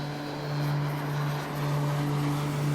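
BlackSquare Turbine Duke turboprop aircraft in Microsoft Flight Simulator, heard from outside: a steady, fairly quiet engine drone with a low tonal hum and a gentle swell partway through.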